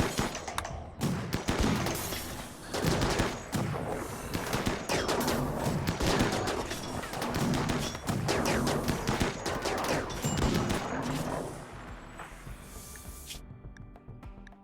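Heavy video game gunfire from several players shooting at once, with loud, dense, overlapping bursts of automatic fire and thuds that run for most of the stretch before thinning out near the end.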